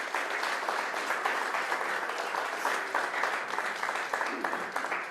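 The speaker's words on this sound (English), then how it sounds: "let's give you a round of applause" A congregation claps steadily for several seconds at a worship service, a dense and lively round of applause filling the room.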